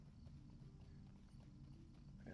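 Horse hooves clip-clop at a steady walking rhythm in The Lord of the Rings Online, faint and even over a low background hum.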